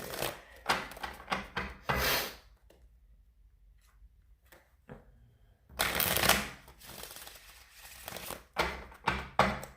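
Bursts of tarot cards being shuffled, riffling and rubbing in quick runs, with a quiet pause in the middle before a longer, louder shuffle resumes.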